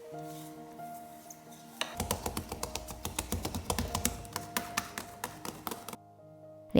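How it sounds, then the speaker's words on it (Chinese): Hands slap a piece of bread dough smooth side down to press out the air, about two dozen quick, even pats close to the mic, with faint background music. "取一块面团，光滑面朝下，拍打排气。"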